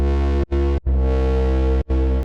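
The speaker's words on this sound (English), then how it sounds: "Then we go into this bandpass bass, which sounds like this," A thick, buzzy bandpass synth bass made in Serum 2 holds long sustained notes, briefly cutting out twice, loud and upfront with a filtered, resonant tone.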